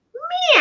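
A person's voice imitates a cat's meow in one drawn-out, rising call that swells louder toward the end, close and alone.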